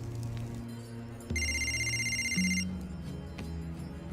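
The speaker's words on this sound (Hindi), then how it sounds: "हेलो राजा, आपका फोन है" A telephone rings with a bright electronic trill, one burst of about a second, over a quiet room with a low hum.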